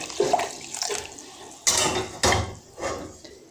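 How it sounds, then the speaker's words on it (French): Hot water is poured onto an eel being scrubbed clean, in a few short splashing gushes that rise and fall, close and fairly quiet, with no talk. "Là, je vais ajouter de l'eau chaude."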